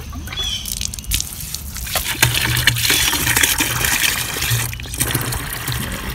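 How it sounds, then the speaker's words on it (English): Water from a garden hose rushes steadily into a bucket, a loud continuous gush with splashing that fills the whole stretch. "Turn the water up really high."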